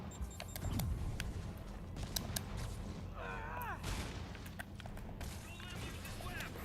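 Rocket launcher fire and blasts in the Spider-Man video game, repeated booming bursts with crackling debris over steady game noise, while someone talks and curses over the action.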